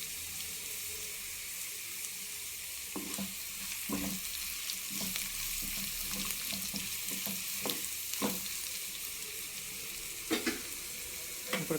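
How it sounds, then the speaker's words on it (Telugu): Mustard seeds and cumin crackling in hot oil with onion for a dal, a soft continuous sizzle dotted with scattered pops and faint stirring. "ఉల్లిపాయ వేసుకున్నాక ఆవాలు జీలకర్ర వేసుకుంటే ఆవాలు చిట్పట్లాడవండి."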